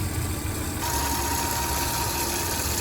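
A 2008 Hyundai Santa Fe engine idles steadily up close, with a constant whirring whine from a worn tensioner bearing riding over the low engine hum, no talking.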